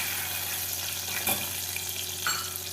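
Water poured into a hot pan of tur dal sambar hisses in a steady, close sizzle, with a couple of brief louder bursts as it hits the hot surface.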